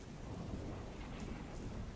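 Steady rain pours down with a deep, rolling thunder rumble underneath, continuous and fairly loud, with no voices.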